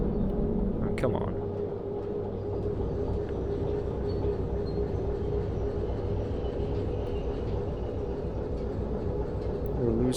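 A train rolls along the rails in the railway simulator Derail Valley, a steady low rumble with faint clatter under the wheels, while someone talks over it; a brief louder knock near the start.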